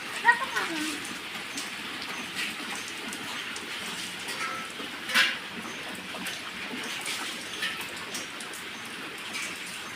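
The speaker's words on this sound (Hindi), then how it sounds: "बारिश हो रही है" Steady rain patters on a surface, with scattered heavier drops and people talking quietly underneath.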